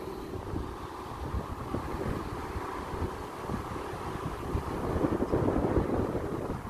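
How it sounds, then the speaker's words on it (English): A freight train rolls through Asquith station as a steady, low, distant rumble, growing slightly louder toward the end, with wind noise mixed in and no talking. "And the freight train's going."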